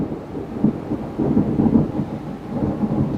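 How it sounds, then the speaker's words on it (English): Thunderstorm with heavy rain and low rolling thunder rumbling through, loud and continuous with repeated deeper swells, no voices. "we have a thunderstorm, as you can hear in the background"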